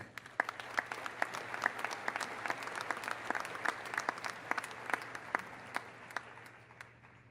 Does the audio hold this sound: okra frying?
no